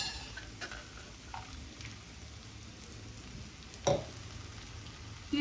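A spoon stirs boiled green gram and banana stem in a pan, with a soft steady sizzle and faint scraping throughout, plus a sharper clatter near the end.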